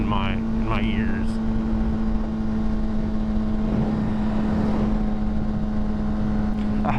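A motorcycle engine drones steadily while cruising at about 7,000 RPM, a constant loud hum with wind rush throughout, and a voice talks briefly over it near the start.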